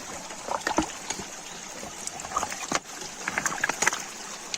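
Water running out from under a large boulder at a waterfall at Sri Amara Lingeshwara Swamy Kona near Tirupati, a steady rushing wash with scattered splashy trickles and drips, fairly close, with no talk.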